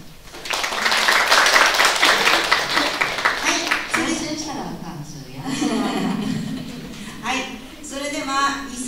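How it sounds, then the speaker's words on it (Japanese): Audience clapping at a university feminism seminar and lecture, a loud burst of many hands for about four seconds that fades under voices speaking nearby. "拍手。"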